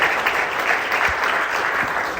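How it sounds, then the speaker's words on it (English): An audience at a marriage-focused talk breaks into sustained applause, a thick, even clatter of many hands close and fairly loud, lasting throughout without any speech on top. "give them a big round of applause"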